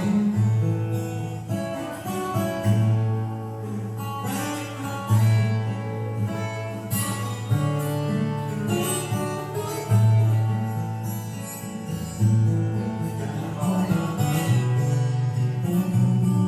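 Guitar playing steadily over a full, dense backing, with chords ringing continuously and no one speaking.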